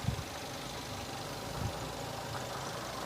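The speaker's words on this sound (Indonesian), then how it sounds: "Dan ini untuk suara mesinnya." A 2011 Toyota Avanza Type G automatic idles steadily with a low, even rumble, no voices over it.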